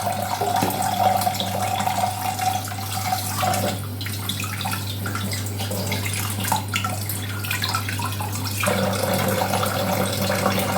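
Fish being rinsed under a running kitchen tap while making fish soup, a steady close stream of water splashing for about ten seconds with small shifts in the flow, no talking.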